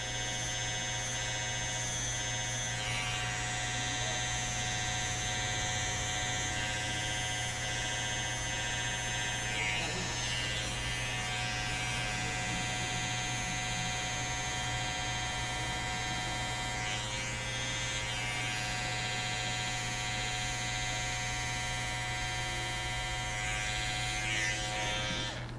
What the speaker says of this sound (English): hit everything again one more time with my liner